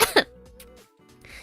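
Two quick, sharp coughs from a woman at the start, close to the microphone, followed by a quieter stretch with faint background tones.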